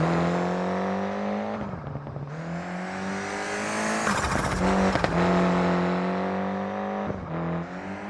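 A Ford Escort Cosworth rally car in a WRC video game, its engine droning loud and steady with pitch rising and falling through gear changes and brief dips as the revs drop between shifts.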